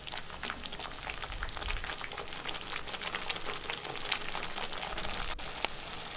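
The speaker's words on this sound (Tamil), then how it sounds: "சட்னி நல்லா வற்றி சுண்டி வரட்டும்." Onion chutney simmering in oil in a pan gives off a soft, steady sizzle and fine bubbling crackle, faint and close, with a couple of sharper pops near the end.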